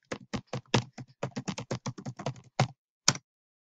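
Rapid typing on a computer keyboard, close and crisp, with a quick irregular run of keystrokes that thins out into a couple of isolated taps at the end, no voices present.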